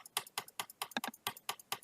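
Rapid, evenly spaced clicks of a computer mouse or keys while skipping dialogue in the game Zero Escape: Virtue's Last Reward, about eight crisp taps in under two seconds, close and clear with no voices.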